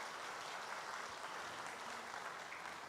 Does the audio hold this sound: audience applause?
yes